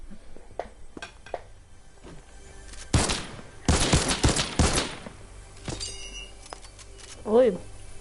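Rifle gunfire in Fortnite, a cluster of loud, sharp game shots in rapid bursts midway through, mixed with clinks and game effects while a player talks.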